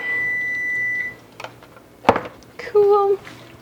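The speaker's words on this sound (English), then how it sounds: "Turn off the timer." A kitchen timer gives a steady electronic beep, then a few short beeps, near and loud amid clatter while cooking pumpkin Alfredo.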